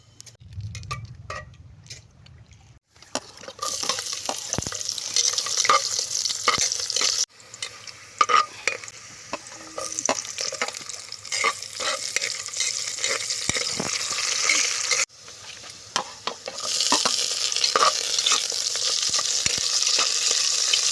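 Food sizzles and stirs in a cooking pot being sautéed, with a steady frying hiss, scraping and occasional clinks of utensil against metal, close and continuous, briefly dropping out twice before resuming.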